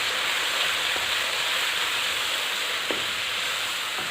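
Ginger garlic paste frying in a karahi for chicken karahi, a steady broad sizzle running throughout with a couple of faint clicks and no talking.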